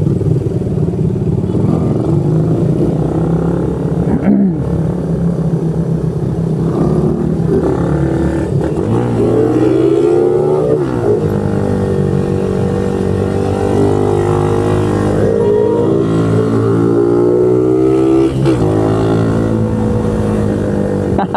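Two Suzuki Raider 150 FI motorcycles ride through heavy traffic on a flyover, their engines loud and close, with rising and falling revs and steady wind and road roar throughout.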